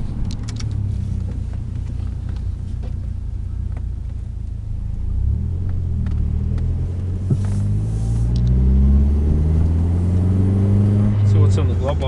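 A 2004 Dodge Neon drives along, its engine and road noise a low steady rumble inside the cabin that swells slightly later, heard beneath someone talking.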